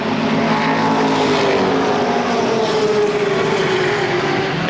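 Stock race cars roar around the 1992 Motordrome Speedway oval, a loud, continuous blend of engines with droning, shifting pitch as the pack runs down the front straightaway.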